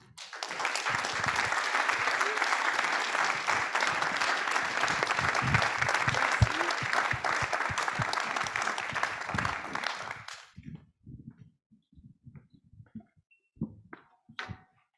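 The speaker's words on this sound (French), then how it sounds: "Je vous demande d'applaudir très chaleureusement Madame Carole Bouquet." Warm, sustained applause from an audience at a fifth-anniversary celebration of the Cité du Vin in Bordeaux, loud and dense for about ten seconds, then cutting off, followed by scattered faint sounds and quiet murmurs.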